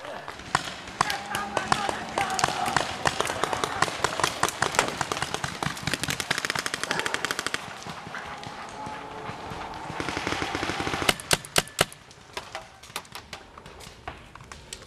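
Paintball guns fire in rapid, clustered pops during an outdoor paintball game, loud and close, with people talking across much of the stretch.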